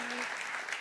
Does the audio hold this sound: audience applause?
yes